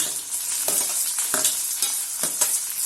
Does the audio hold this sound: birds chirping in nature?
no